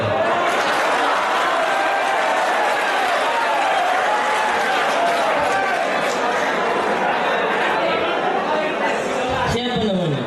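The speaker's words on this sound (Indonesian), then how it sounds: "Beri tepuk tangan dulu." An audience at a school Maulid Nabi commemoration gives loud, continuous applause that fills the room, with voices and chatter running over it throughout.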